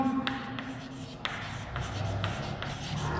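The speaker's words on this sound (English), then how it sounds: "Let us write it" Pen or chalk writing during a chemistry lecture, with soft scratchy strokes and intermittent light taps over a low room hum and faint background murmur.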